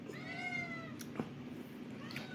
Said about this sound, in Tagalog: Yung mga pusa ko.